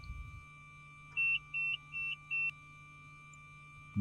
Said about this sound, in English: We can push the button. Get the little beep there.